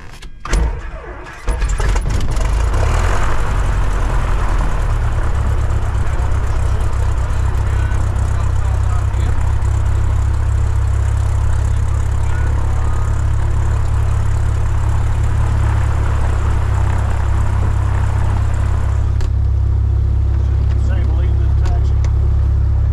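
A light aircraft's propeller engine cranks and catches after a brief pause, then runs loud and steady at a droning idle through to the end, with a voice speaking over it.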